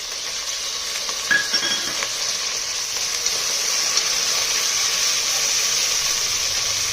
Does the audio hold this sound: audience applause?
no